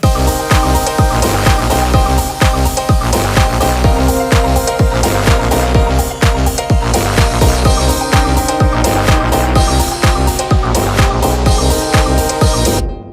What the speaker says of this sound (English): The next section, the piano and the bass starts to come.